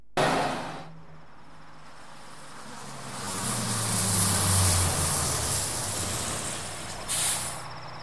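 A car engine runs steadily, swelling louder midway before the vehicle slows and stops, with a short burst of hiss near the end; no one speaks.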